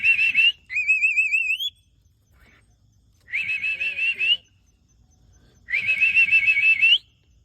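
A pet mynah bird gives three bright whistled phrases, each with a wavering rising tone, separated by short pauses, close and loud.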